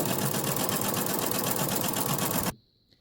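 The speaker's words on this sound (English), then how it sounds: "Lower my presser foot and continue to sew." A sewing machine runs a tote bag seam in a loud, close, rapid, steady whir for about two and a half seconds, then stops abruptly, leaving near silence and one small click.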